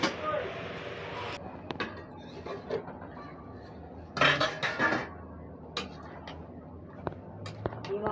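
A pot of egg omelette curry is stirred and then covered, giving clinks and scraping knocks of utensil against metal, with a louder clatter midway and sparse ticks afterward, under faint room noise.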